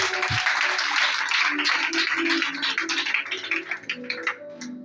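A church congregation applauds continuously at a worship service, dense, steady clapping that thins toward the end, with a voice faintly under it.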